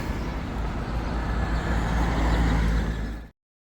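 Steady traffic rumble of cars passing on a street in a small town on the Camino del Norte in the morning, a continuous broad wash that swells slightly before cutting off abruptly.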